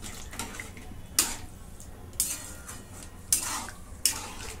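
A spoon scrapes and clinks against a pot in repeated stirring strokes, mixing a strained tea mixture for chole bhature, about four sharp knocks over a soft bubbling background.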